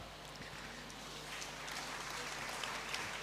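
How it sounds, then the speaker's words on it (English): Students clap at a university congregation ceremony in a great hall. The applause is faint, steady and distant, a soft, even patter that builds slightly over a few seconds. "I thought I would hear them clap."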